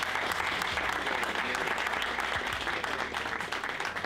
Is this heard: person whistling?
no